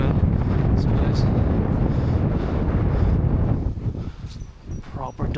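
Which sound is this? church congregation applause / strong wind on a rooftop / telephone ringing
strong wind on a rooftop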